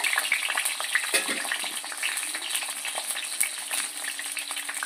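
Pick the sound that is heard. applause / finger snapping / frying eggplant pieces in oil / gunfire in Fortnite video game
frying eggplant pieces in oil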